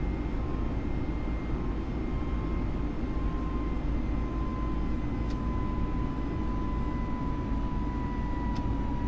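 A jet airliner's engines roar steadily in a flight simulator as it climbs out after takeoff from Florence, bound for Tunis; a constant loud broadband drone with faint tonal whine and a couple of brief clicks.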